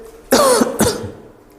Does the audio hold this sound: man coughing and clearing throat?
yes